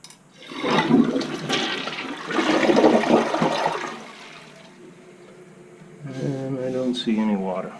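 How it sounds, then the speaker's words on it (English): A newly installed toilet flushes with a loud rush and swirl of water, then settles into a quieter refill hiss and gurgle, all without any talking over it. "now we'll try and flush her"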